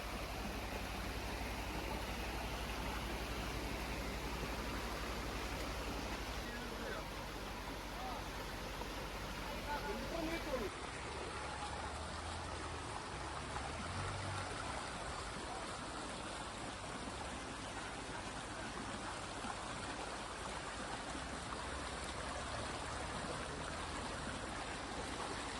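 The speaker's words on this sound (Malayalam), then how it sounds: "തൊള്ളായിരംകണ്ടിയിലെ മനം മയക്കുന്ന ഒരു കാഴ്ചയാണ് ഇവിടുത്തെ അരുവികളും" A mountain stream at 900 Kandi in Wayanad flows steadily with continuous broadband rushing water. It stays fairly loud and close throughout, with the tone shifting slightly partway through and no voices.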